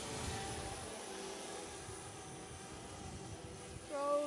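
Steady broadband whir of a drone flying overhead, moderately loud and continuous, with a faint tonal whine rising near the end; no talking.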